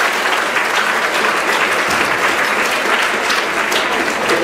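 Dense, steady applause from a seated audience at a long-term care symposium, many hands clapping continuously and evenly at close range for the whole stretch with no voices breaking through.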